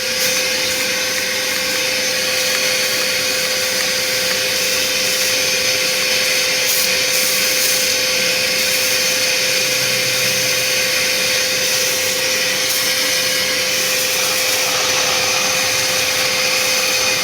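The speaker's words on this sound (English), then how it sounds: "So I'm gonna clean out the vacuum, make sure there's no water in there" A vacuum cleaner runs continuously at close range, a steady loud whine holding an even drone throughout, used to clean out water after an engine air filter test.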